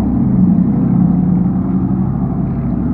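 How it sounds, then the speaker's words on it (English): A loud truck rumbles past close by during an outdoor bike ride, a steady, heavy low engine roar holding for several seconds with no talking over it. "hold on, we have a nice loud truck."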